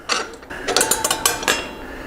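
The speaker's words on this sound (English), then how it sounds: "Go ahead and pull our axle out." A front axle is slid out of the wheel of a Harley-Davidson Softail, with close metallic scraping, clicks and rattles in quick uneven bursts.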